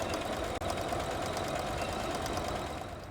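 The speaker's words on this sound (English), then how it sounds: "hold down the toggle to go in reverse a few stitches, release that toggle, and continue sewing" A home sewing machine stitching fabric for a drawstring bag, including a few reverse stitches, gives a steady, continuous mechanical whir throughout with a brief dropout near the start, close and fairly quiet.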